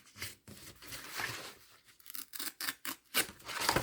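Scissors snip through a book page in a series of short cuts, close and crisp, with some paper rustling and crinkling between snips and no talking.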